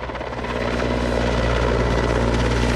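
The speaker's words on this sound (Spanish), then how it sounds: "guían a los helicópteros equipados con Bambi Bucket para dirigir el agua sobre el punto crítico" A firefighting helicopter fitted with a Bambi Bucket flies over wildfire hills, its rotor and engine making a loud, steady, close whirring drone that holds throughout without a break.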